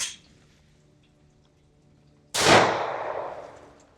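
A single sharp gunshot from an FN 502 pistol fired outdoors, loud and close with a lingering echoing tail, preceded by a brief faint click and near silence.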